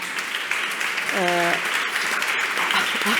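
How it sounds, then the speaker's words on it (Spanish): Applause from a convention audience during a security and defence panel, a steady dense clatter of many hands filling the hall throughout, with a brief tonal note briefly cutting through. "Yo creo que aquí puedo parar de hablar, ya tengo vuestro aplauso."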